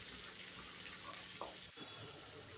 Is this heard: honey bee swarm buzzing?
no